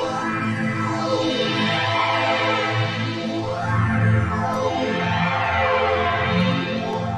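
A randomized ambient preset from Audiofier's VEEVUM Kontakt library plays alone: lush, shimmering tonal layers that sweep slowly up and down in rising and falling waves, fairly loud and continuous.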